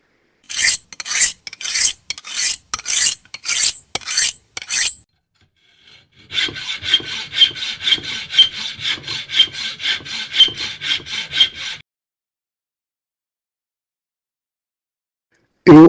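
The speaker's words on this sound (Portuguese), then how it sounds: "Eu amolei o serrote dele" A file rasping across saw teeth: about a dozen sharp separate strokes, then a steady fast run of rhythmic scraping for several seconds before stopping.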